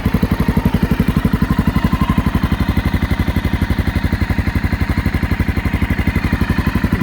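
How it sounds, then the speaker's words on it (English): A 2009 Honda XR650L motorcycle idles steadily, its single-cylinder exhaust thumping in an even, rapid pulse that stays close and constant throughout. "Exhaust has a nice sound to it."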